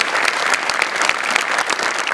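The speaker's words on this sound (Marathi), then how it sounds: "जोरदार टाळ्या" A studio audience breaks into loud, continuous applause at a Marathi comedy show, a dense close wash of clapping hands that holds steady throughout.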